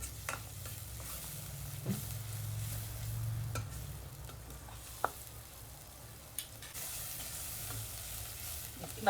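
Spices frying in oil for a soya chunk curry, a steady close sizzle with occasional stirring scrapes and a couple of sharp clinks, no talking.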